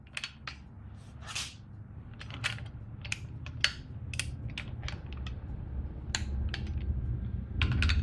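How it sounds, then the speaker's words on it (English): Torque wrench set at 42 tightening the bolts of an Opel CIH engine with a double offset 19 wrench, heard as a scattered series of sharp metallic clicks and ticks over a low workshop hum. "now I'm going to take my double offset 19 and my torque wrench, set at 42"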